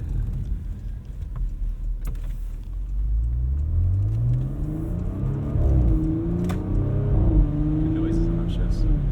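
A 2015 Porsche Macan Turbo pulls hard from inside the cabin, its engine note rising steadily and dipping briefly at gear shifts, with people talking over the drive.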